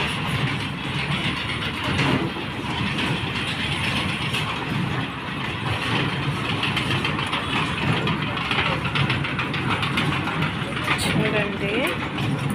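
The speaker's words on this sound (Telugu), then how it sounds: "ఇది చిన్నపిల్లలు ఆడుకోవడానికి ట్రైన్ ఫ్రెండ్స్ చూడండి" A children's toy train runs at a busy craft expo, giving a steady mechanical rattling and clicking that continues throughout under crowd noise and nearby talking.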